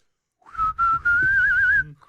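A person whistles a single sustained note that slides gently upward and wavers at the end, clear and close, over faint low background murmur.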